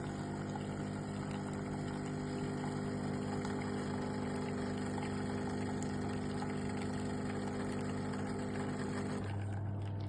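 A Siemens EQ.6 300 series coffee machine brews with a steady, close mechanical hum and pump drone, continuous and even, shifting pitch slightly just before the end.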